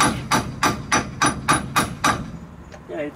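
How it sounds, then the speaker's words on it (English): A hammer's flat face taps a part into place on a VW Beetle during wheel bearing and headlight mount work, seven evenly spaced, close, sharp metallic knocks followed by a few softer clicks. "Using the flat side of the hammer on purpose because it will not dent"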